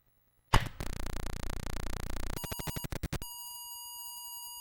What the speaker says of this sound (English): this is a really long beep because it's actually filling up that buffer hard as it can